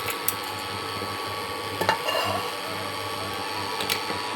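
Rice chushi is stirred into thickened milk in a pot for payesh, a faint, soft scraping and swishing of a spoon through the thick liquid, with a few light clinks against the pot.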